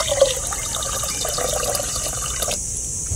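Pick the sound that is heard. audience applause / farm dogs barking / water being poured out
water being poured out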